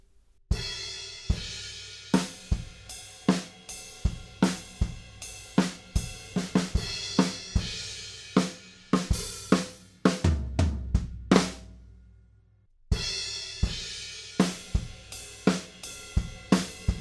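Instrumental drum section of a song: steady, crashing cymbal washes over rhythmic kick and snare hits, building to a roll, then a brief drop before the full kit returns, loud and without voices.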